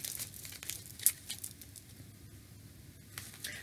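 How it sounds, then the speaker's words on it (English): A tarot card deck is wipe-shuffled, soft papery rustling and light slides at close range, with a few brief crisp scrapes over a quiet room. "I'm going to wipe shuffle here."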